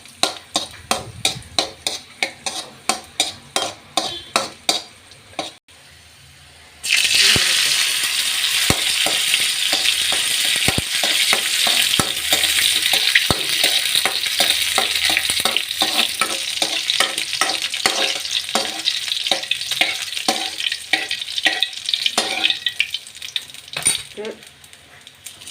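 Stuffed banana frying in a pan, a loud continuous sizzle that starts after several seconds of rhythmic stirring and scraping, with a utensil clinking against the pan at intervals.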